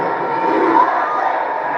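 A big crowd at a water polo match in La Défense Arena roars in a steady, loud, continuous chant with no clear breaks.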